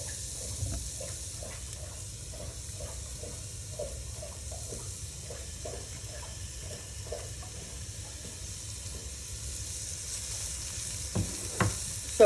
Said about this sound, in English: we're gonna cook these for just a few minutes in the oil